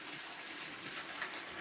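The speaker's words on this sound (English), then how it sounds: "I'll run me some fresh water" A kitchen tap runs steadily into a sink of fresh water for washing collard greens, a continuous splashing gush heard close with no talk.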